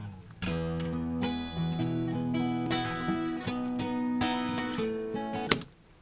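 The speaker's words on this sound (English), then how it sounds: "It's a nice acoustic guitar song." A gentle acoustic guitar song plays back cleanly through mixing software, with ringing plucked chords and sustained notes at moderate, even volume, ending with a brief clunk.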